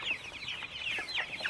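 Chickens cluck in a farm coop, with a run of quick, overlapping clucks and short calls from several birds close by and no talking.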